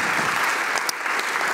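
Steady audience applause greets a lecturer introduced at an urban civic-future talk, a dense, even wash of clapping throughout the short stretch with no voices over it.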